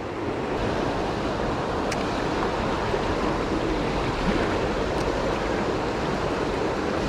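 Fast-flowing river water rushes loudly and continuously, a dense broadband roar with no break throughout.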